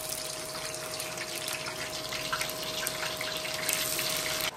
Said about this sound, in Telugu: ఆయిల్ వేడెక్కినాక ఆనియన్స్ అయితే వేసేద్దాం మనము.